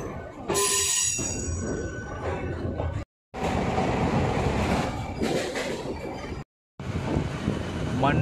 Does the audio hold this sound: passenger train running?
yes